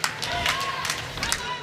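Crowd at a lawn bowls grand final between Essendon and Moonee Valley claps and cheers, a lively burst of applause and scattered shouts, with talk mixed in.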